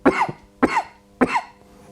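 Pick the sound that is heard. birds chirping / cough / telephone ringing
cough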